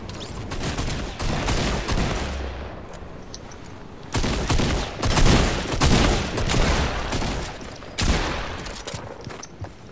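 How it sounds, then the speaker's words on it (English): A drum gun fires in a video game, sounding as dense rapid bursts of automatic gunfire in three sustained volleys, loud and close, with little talk. "Still got a drum gun."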